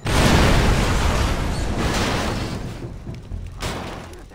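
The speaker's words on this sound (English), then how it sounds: "I wonder if anyone else heard that explosion." A loud explosion in the video game Far Cry 3 Blood Dragon booms at once and rolls into a long, fading rumble with a few later crackles, no talk over it.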